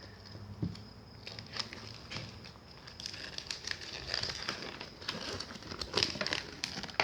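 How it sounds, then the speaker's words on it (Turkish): A paper catalogue being opened and handled up close, giving soft crinkles and rustling page movements in irregular bursts that grow busier toward the end, all fairly faint. "Açalım katalogumuzu."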